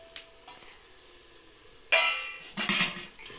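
Potatoes, capsicum and peas fry in a pan in a Himachal village kitchen, with a sudden loud sizzle, scraping stirs and clinks of utensil on metal, close by.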